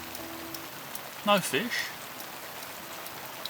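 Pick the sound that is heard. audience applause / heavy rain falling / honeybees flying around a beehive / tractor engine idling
heavy rain falling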